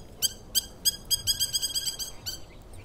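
A curucuru bird calls in a series of about ten clear, repeated high notes, quickening slightly and then fading, heard alone and fairly close against a quiet outdoor background.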